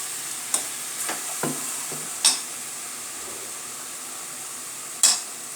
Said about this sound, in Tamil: இந்த தேங்காய் அரைச்சி வச்சுருக்கிறத அதில் கொட்டிடுறேன்